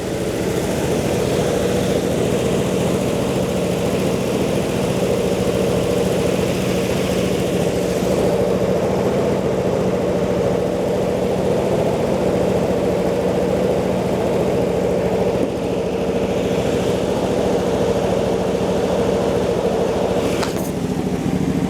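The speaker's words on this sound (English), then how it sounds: "Got an exhaust leak." A 1964 Impala wagon engine idles steadily and loudly with an exhaust leak, a rough, throbbing rumble that carries on unchanged for a long stretch, with no talking.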